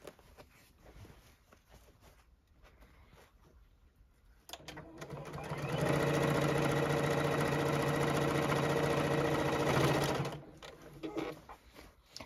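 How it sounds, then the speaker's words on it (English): A JUKI sewing machine with a denim needle sews the side seam of a tote bag through heavy fabric. Quiet handling noises come first, then a loud, steady, close motor whir runs for several seconds before cutting off. "I am now going to sew that opposite side."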